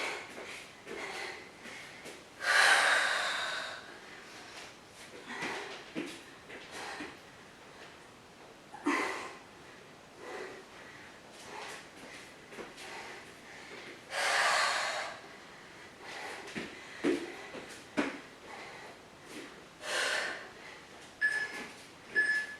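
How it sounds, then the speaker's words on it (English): Breathing during a Pilates workout: sharp, forceful exhales and snorting breaths recur at uneven intervals, some strong and close, others brief and softer, with quiet gaps between them. "Breathing."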